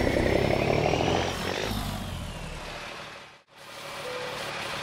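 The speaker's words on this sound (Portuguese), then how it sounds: "Mano, é alto demais o barulho do motor desse caminhão." Ford Cargo truck engine in the Euro Truck Simulator Brasil game, a loud steady droning roar that dips briefly to near silence, then resumes.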